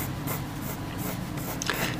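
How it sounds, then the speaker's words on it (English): A pencil sketches a circle on paper, with continuous close scratchy strokes rubbing across the sheet in short sweeping passes. "Okay, sketch out a circle."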